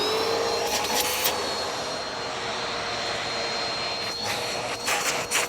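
A Bissell Powerforce Helix vacuum cleaner runs with a steady, loud whooshing roar, close by, with a few brief clatters on top.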